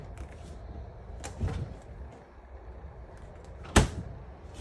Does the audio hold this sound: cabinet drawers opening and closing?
yes